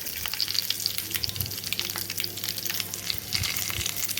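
Mustard seeds and dried chillies crackle and sizzle steadily in hot oil in a small pan for tempering a coconut chutney, with a continuous close frying hiss and scattered sharp pops, no voices.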